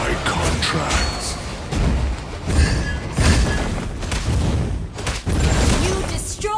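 Explosions and gunfire boom through a video game battle as a turret is destroyed, dense repeated blasts and thuds filling the scene with a game voice speaking over them.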